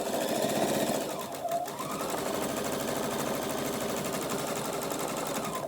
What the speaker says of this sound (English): I'm very comfortable with a little bit of gas on my sewing machine